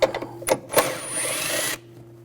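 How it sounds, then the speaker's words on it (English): Ratcheting and clattering from a 10mm socket wrench backing out bolts in the engine bay of a 2000-2006 BMW X5 3.0L inline-six, close and sharp, with short clicks first and then a steady whirring run for about a second before it stops. "We're going to take these two bolts out, use a 10mm socket."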